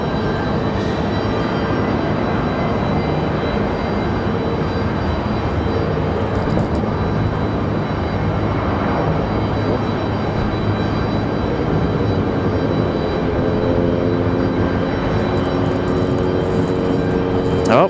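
A Delta airliner passes at Raleigh-Durham airport with a loud, continuous jet roar that holds steady and fills the whole stretch, while a whining engine tone shifts and rises near the end.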